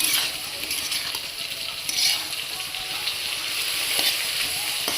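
Greens fry in a pan with turmeric and salt as a spatula stirs them. A continuous close sizzle carries a few scraping strokes and a light clink, with no voices.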